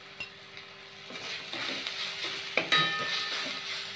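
Minced keema with turmeric frying in a pan, a soft sizzle that swells after a moment, with scraping stirs and a few light clinks of a utensil against the pan.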